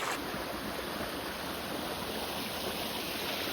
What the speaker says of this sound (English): Really pretty creek right here.